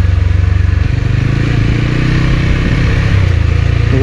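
A TVS Apache 200 motorcycle engine in first gear descends a steep loose dirt and sand road in the Spiti Valley near Dhankar, a loud steady close throb with a rapid pulsing beat and brief shifts in tone.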